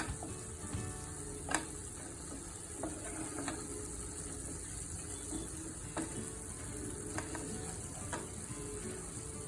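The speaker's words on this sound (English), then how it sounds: "Now add the green chilies and some more curry leaves. Give a good mix." Masala gravy with green chilies and curry leaves is stirred in a pan, giving a steady low sizzle with a few sharp scrapes and clicks of the spoon spread across the stretch.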